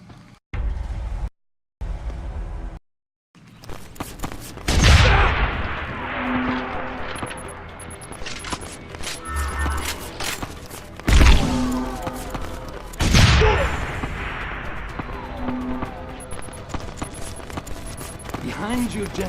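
Gunfire and explosive blasts from a grenade launcher in the shooter game Deus Ex: Human Revolution, with several loud booming bursts and rattling shots spread across the stretch, mixed with game effects and occasional voices.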